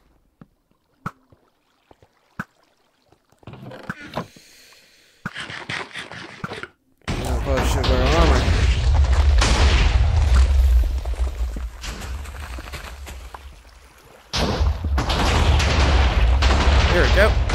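Cannon fire aboard the battleship Halberd in the VR game Overcast: a few sharp isolated booms early on, then loud sustained roaring blasts and rumbling battle noise that drop out briefly before surging again.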